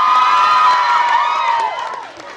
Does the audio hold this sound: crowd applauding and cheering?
yes